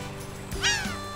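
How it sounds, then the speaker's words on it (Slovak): A seagull calls once out in the open by a fishing spot, a short bright harmonic cry with a falling tail, fairly close over a steady low outdoor background. "To bola čajka."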